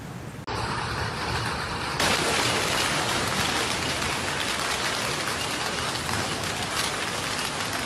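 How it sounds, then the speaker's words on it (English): Torrential rain pouring down in South Tyrol, Italy, during flash flooding: a dense, loud, continuous hiss of rain hitting surfaces, swelling heavier after a couple of seconds and holding steady to the end. "Torrential rains hit areas of South Tyrol, causing flash floods and landslides."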